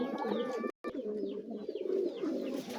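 A pair of Giribaz pigeons coos in repeated low, rolling calls close by, with one short pause partway through.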